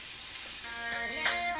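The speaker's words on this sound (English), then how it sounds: "I'm stir frying it with some avocado oil" Bell peppers in red, yellow, orange and green with onions stir frying in avocado oil, a steady soft sizzle with faint stirring scrapes and a brief brighter clatter near the end.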